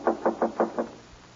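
Five quick, evenly spaced knocks on a door in an old radio drama, close and crisp, followed by a faint thud and silence.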